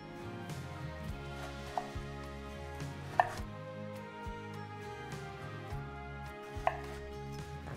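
A knife chops through frozen potato hash browns on a board in uneven strokes, with a few sharper thuds standing out from a soft background hum, close and with no talking.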